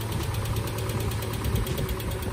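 An old truck engine runs steadily after a rebuild, a continuous low rumbling idle with a faint knocking vibration, close and loud with no voices.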